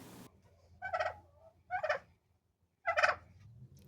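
Three loud gobbling bursts from a turkey poult and a hen, spaced about a second apart, with quiet pauses between them.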